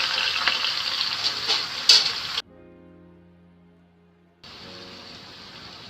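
Grated ginger, garlic, green chili and onion hit hot oil in a frying pan, giving a loud hissing sizzle that cuts off abruptly, then a quieter steady sizzle resumes.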